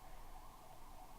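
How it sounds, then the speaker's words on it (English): Ambulance sirens wail outside, faint and distant, holding a steady, slightly wavering tone throughout with no talk. "the ambulances are insane here"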